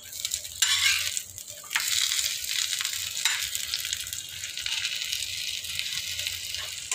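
Fish sizzles and crackles steadily in mustard oil in a home kitchen pan, with a few louder scraping bursts as it is handled and turned.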